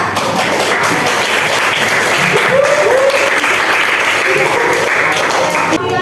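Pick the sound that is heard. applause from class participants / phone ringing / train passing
applause from class participants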